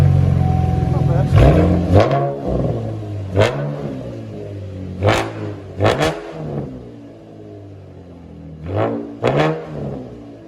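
A Chevy Camaro, either the 6.2L SS V8 or the 3.6L RS V6, revs through its exhaust in several loud, sharp bursts over a steady idle, with the throttle blipped repeatedly close by.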